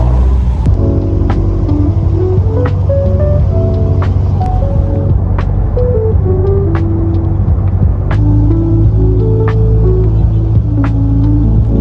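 Steady low engine drone and rumble from a jeepney, heard from inside while riding, running continuously with faint higher tonal sounds drifting over it.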